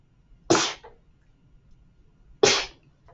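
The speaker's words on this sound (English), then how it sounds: "Excuse me, had to sneeze." Two sharp sneezes, close and loud, spaced about two seconds apart in an otherwise quiet indoor setting.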